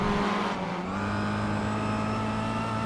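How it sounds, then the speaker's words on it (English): Race car tires on the Nürburgring Nordschleife in iRacing, a steady close engine drone with a continuous tire hum and scrub running unbroken throughout. "the sound of those tires"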